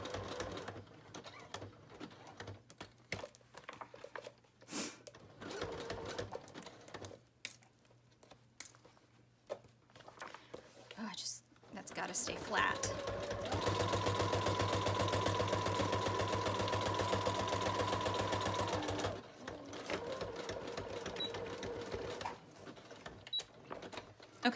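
Sewing machine stitching through a composition book cover, a close, steady mechanical whir that runs continuously for several seconds, preceded and followed by quieter handling clicks and rustles.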